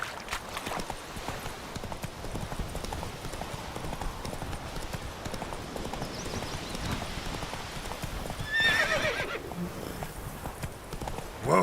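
Roach, the horse in The Witcher 3, gallops with a rapid, continuous drum of hooves over gritty ground, and a short, bright neigh rises near the end.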